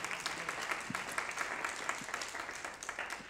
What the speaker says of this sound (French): Oui, on peut applaudir, vraiment.